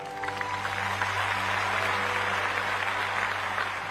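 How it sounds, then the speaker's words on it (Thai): Studio audience clapping for a singer on a Thai music show, a dense, steady round of applause over a low sustained hum. "ขอเสียงปรบมือเลยครับ"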